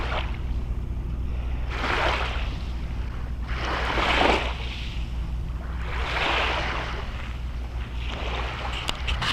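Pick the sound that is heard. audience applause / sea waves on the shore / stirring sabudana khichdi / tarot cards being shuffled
sea waves on the shore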